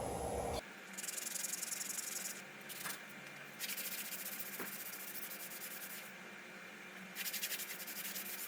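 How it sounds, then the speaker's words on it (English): Sandpaper is rubbed by hand over a brake part on a 2014 Dodge Ram 3500, giving repeated scratchy, hissing strokes in bursts with short pauses between, close and fairly quiet. "I'm going to run a little sandpaper on here"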